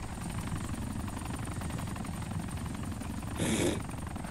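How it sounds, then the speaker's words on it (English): A helicopter in the game DayZ Epoch drones steadily with a rapid rotor thrum, close and continuous, with a brief louder noise burst near the end. "This is our new helicopter."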